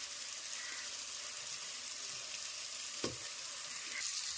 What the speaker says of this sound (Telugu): సన్నమంట పెట్టుకొని ఒక రెండు మూడు నిమిషాలు బాగా మసాలా వేగనియాలి